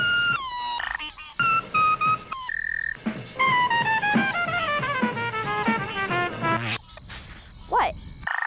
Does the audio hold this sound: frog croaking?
yes